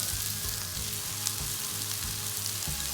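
Mutton and onions frying in a pan for a Chettinad mutton chukka varuval, a steady close sizzle with a low rhythmic stirring pulse, no voices.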